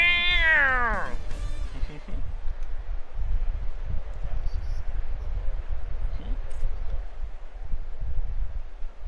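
A cat lets out one loud, close meow with a falling pitch at the very start, followed by steady wind noise buffeting the microphone and faint rustling for the rest of the clip.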